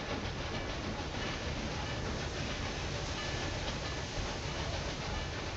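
A train from the Railway Empire 2 game runs toward a tunnel in the Balkans with a steady, dense rolling rumble and faint clatter, continuous and even throughout, with no voices.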